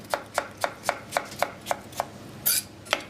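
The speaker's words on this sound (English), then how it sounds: "Just take the pips out, cut them into quarters again, and just slice them up like that" A knife slices through quartered fruit with skin on a chopping board in about ten crisp, evenly paced cuts, close and alone, with one brief rustle near the end.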